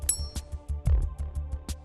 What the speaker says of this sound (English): Now I'm going to demonstrate the sound of another forged golf club on the market that is not grain flow forged.